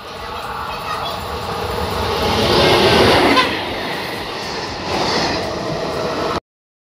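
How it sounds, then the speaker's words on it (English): A train rumbles across the 124-year-old steel Victoria Bridge at Enggor near Kuala Kangsar, Malaysia, its clattering roar swelling, easing, then surging again before cutting off abruptly. "There are kids who are definitely more excited when there is a train nearing the new"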